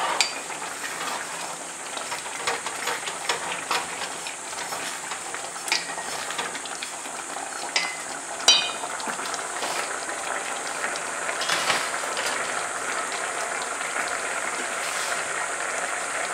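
Risotto alla Milanese simmering after a ladle of broth goes in, a steady bubbling hiss and sizzle with occasional soft stirring scrapes and clinks, close and continuous.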